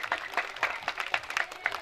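An audience at a school annual day claps to welcome guests to the stage, a steady, fairly rhythmic patter of hand claps at moderate distance, with no voices over it.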